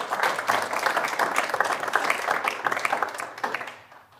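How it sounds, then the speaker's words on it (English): Audience applause at a leadership event in a hall, a dense wash of clapping that holds steady for about three and a half seconds, then fades out. "An applause, right?"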